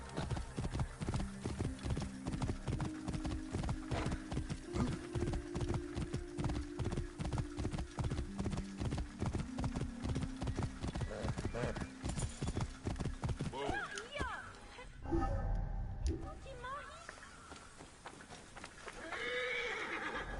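Hooves clip-clop in a quick steady gait in Assassin's Creed Origins, with a horse whinnying and someone talking over it before the hoofbeats break off near the end.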